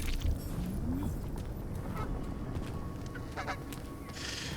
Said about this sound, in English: can we actually shoot the duck now?